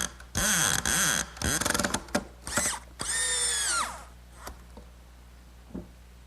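Power drill driving a screw into a glued wooden saddle tenon on a rocking horse: several loud bursts of whirring motor that rise and fall in pitch over about four seconds, then quiet with a couple of faint clicks.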